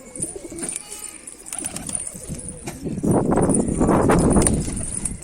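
Pet pigeons land and shuffle about on a rooftop loft, with fluttering wing flaps, scuffing steps and occasional coos, growing busier and louder toward the end.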